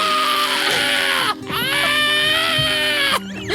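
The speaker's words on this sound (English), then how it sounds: "She starts to scream." A woman screams in long, high, wavering cries that break off briefly and start again, loud and close, with no other sounds over them.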